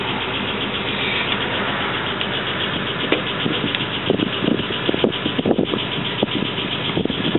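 A 1941 Ford Super Deluxe two-door sedan engine runs steadily at idle, a continuous close mechanical drone with small ticks and knocks over it.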